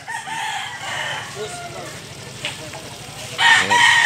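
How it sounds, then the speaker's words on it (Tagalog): A white rooster crows at a market in Consolacion, Cebu, with a couple of rising calls over steady background noise and a louder burst near the end, close by. "puti nga manok"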